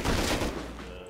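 Gunshots in the survival video game Rust on a snowy map, a short loud burst of overlapping shots fading quickly.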